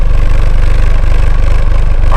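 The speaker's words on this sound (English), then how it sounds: "Cutback exhaust actually has a specifically engineered resonator, so that allows for less intrusive but a better, deeper sound, which you can hear now." Mountune Fiesta ST MP215 engine idling through a cutback exhaust with an engineered resonator, giving a loud, steady, deep low-pitched burble that runs unbroken and close throughout.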